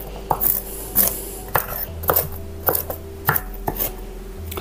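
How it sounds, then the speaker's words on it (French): Walnuts are crushed and chopped with a knife on a board, giving about a dozen sharp, close knocks in an uneven rhythm with some rasping between strikes. "on va s'occuper de nos cerneaux de noix ou de nos noix tout court et je vais les écraser au couteau"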